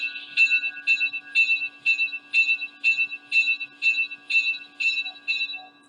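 Atlas Classic Gold GP7 model locomotive bell ringing in a steady repeating rhythm, about eleven clear metallic dings at even intervals over a faint constant electrical hum, close and alone with no talk.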